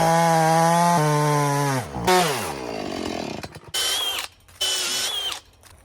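A chainsaw cuts a log to length during a custom wooden bridge build: a loud, steady engine drone that bogs down into the wood, then revs in short bursts with brief pauses between them.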